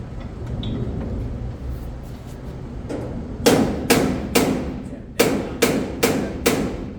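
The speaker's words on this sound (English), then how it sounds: "I'm going to take my little trusty hammer here." A hammer strikes a steel car bumper about eight times, sharp ringing blows in an uneven rhythm, close by.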